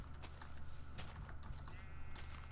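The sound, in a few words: Minecraft redstone clicking off, from a video game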